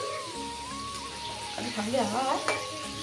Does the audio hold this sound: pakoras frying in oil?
yes